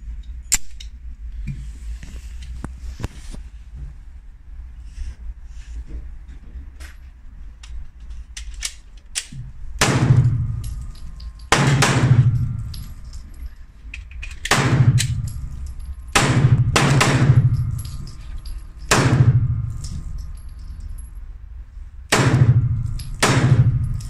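Shots from a CZ P01 9x19 mm pistol fired outdoors, a string of loud sharp cracks, some spaced and some in quick pairs, after a quiet stretch of faint handling noises.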